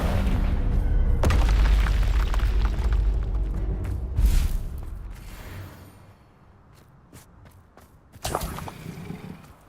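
The Confringo explosive spell goes off in Hogwarts Legacy, with a loud, deep boom and rumbling burst up front that decays over several seconds, followed later by a second sharp blast and crackling tail.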